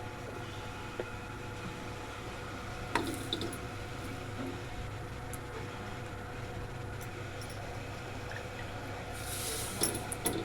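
Water is dabbed by hand onto rice bhakri dough on a hot griddle, producing faint wet patting and light drips over a steady low hum.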